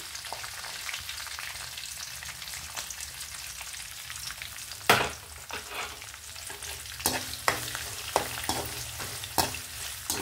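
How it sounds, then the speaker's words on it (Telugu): Chopped onion and green chillies fry in hot oil for a Telugu vankaya chukkakura curry, giving a steady close sizzle with sharp stirring knocks and scrapes toward the end, and no talking. "ఇప్పుడు ఈ ఉల్లిపాయ ముక్కలు, పచ్చిమిరపకాయ ముక్కలు వేసేస్తానండి"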